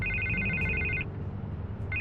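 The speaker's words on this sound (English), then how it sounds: "I can't get the phone to stop ringing" A telephone rings in Batman The Telltale Series, an electronic trill that sounds for about a second, stops, then starts again over a low hum of background score.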